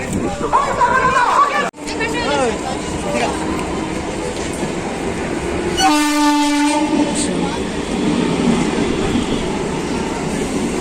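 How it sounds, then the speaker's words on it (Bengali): A train pulls into a station with a rumbling roll, and a loud horn blast sounds midway. Background voices and platform bustle carry through. "চলো, আমার ট্রেন ঢুকে গেছে।"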